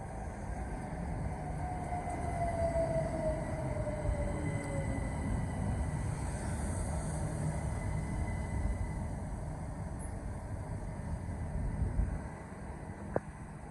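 A Southeastern Class 375 electric train rolls into Sittingbourne station with a steady low rumble and rushing noise, a faint squeal of brakes rising briefly, moderately distant and continuous.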